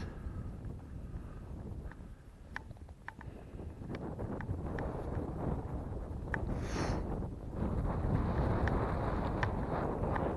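Outdoor wind buffeting the microphone at a historic site, a continuous low rumbling roar that grows stronger toward the end, with a few faint ticks and no speech.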